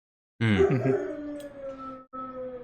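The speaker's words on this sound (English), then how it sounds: "Sorry, my puppy's in the background going crazy." A puppy howls in one long, wavering wail that trails off, then yips briefly, sounding fairly close in an otherwise quiet room.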